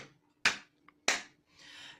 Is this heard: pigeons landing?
no